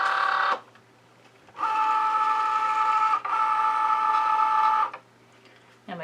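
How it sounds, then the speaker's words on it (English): Cricut Joy cutting machine loading a cutting mat, a close motorized whir in two bursts, the longer one briefly interrupted, with a short voice at the very end. "now I'm just going to load it into the machine"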